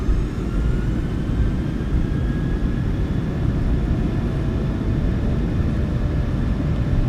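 A PMDG 737-800 in Microsoft Flight Simulator 2024 spools up to takeoff power, with a loud, continuous jet engine roar and rumble holding steady throughout.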